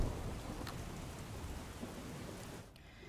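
Heavy monsoon rain in Godhra pours steadily with a dense, constant hiss and patter, loud and close, with no voices; it eases slightly near the end.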